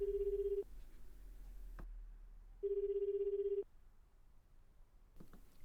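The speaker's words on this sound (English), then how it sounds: "read a number off one, and made a phone call" A telephone ring-back tone in the video game 428: Shibuya Scramble, two steady electronic buzzes about a second long separated by a two-second pause, quiet and clean with faint clicks between and no voices.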